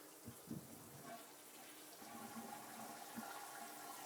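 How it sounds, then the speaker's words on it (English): A household toilet flushing during a home water pump installation, a faint rushing gurgle of water that builds and keeps running, with a few soft knocks early on. "when I flushed the toilet, the water, it sank a little bit"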